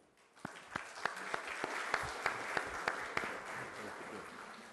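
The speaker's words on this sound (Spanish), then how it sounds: "vamos a recibir con fuerte aplauso al profesor San Martín" An audience at a criminal procedure law lecture applauds to welcome the lecturer, faint and distant, with a few sharper individual claps standing out over a soft wash of clapping.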